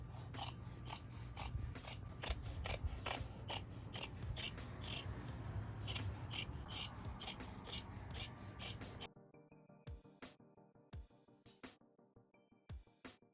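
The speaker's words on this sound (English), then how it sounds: "Now I'm cutting on the inside of this folded seam, all the way up and down the other leg" Scissors cut through folded denim seams of jeans being turned into a skirt. Close, repeated snipping and rasping sounds come at a steady rhythm, louder at first and then quieter, more separate cuts.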